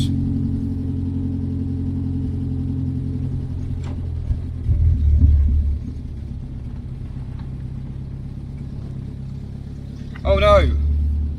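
A 1975 Citroen D Super 5 drives along with a steady low engine hum, and someone talks over it while a brief rumble rises midway and again near the end.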